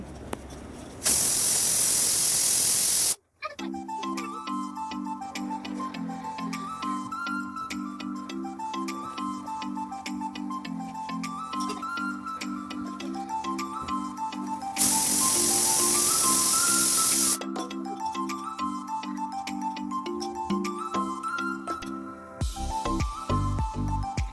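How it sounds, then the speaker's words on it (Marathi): A pressure cooker cooking masala dal releases two loud bursts of steam hiss, several seconds apart. A gentle instrumental melody plays between and under them. "आता कुकरच्या तीन शिट्या होईपर्यंत आपण फोडणीची तयारी करू"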